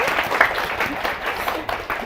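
An audience applauds in a lecture room for a certified labor attorney's talk, a dense steady patter of many hands clapping throughout, with a few voices faintly mixed in.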